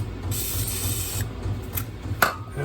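An aerosol can of penetrant hisses in short bursts onto a tie rod end on a 2006 Buick, with faint mechanical clicks between sprays in a quiet shop.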